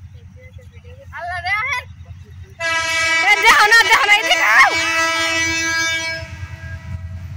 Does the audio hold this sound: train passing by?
yes